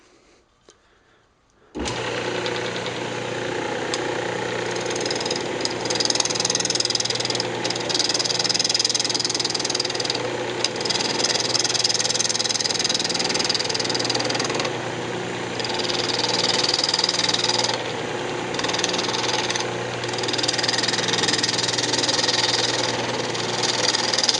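A wood lathe spins a glued yew box blank as it is trued up, starting abruptly after near silence into a steady close mechanical hum and whir with a rough cutting texture that swells and dips, no talking.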